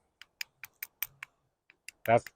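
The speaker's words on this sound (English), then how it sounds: "That's clacking the rubber. It's like, it seems like plastic." A rubber valve cover gasket from a 2002 Jeep Grand Cherokee taps against a microphone in a string of sharp, close clacks, about eight evenly spaced, ending with a short voiced sound.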